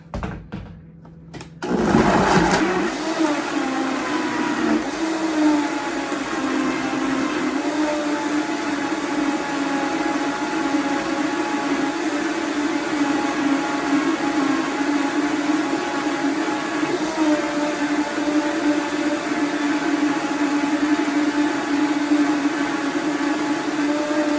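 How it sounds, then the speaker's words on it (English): A kitchen blender whirls a homemade decongestant mixture, starting abruptly after a brief pause and then running as a loud, steady motor whine that holds for over twenty seconds. "now let's get this blender a-whirling."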